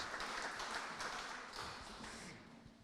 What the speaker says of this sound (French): On peut applaudir nos 4 intervenants.